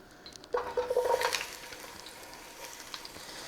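Onions dropped into hot olive oil in a braising pan, a sudden loud sizzle with tonal metallic scraping as they are stirred, then a gentler steady frying hiss.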